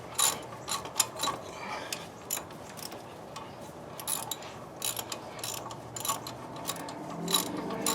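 A ratchet wrench drives a 3/8 inch Allen bolt into a hub assembly on a 1997 Dodge Ram, with quick, irregular bursts of close clicking broken by short pauses.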